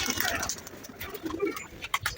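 Pigeons coo in a soft, steady flock chorus while they wait to be fed, with overlapping calls throughout.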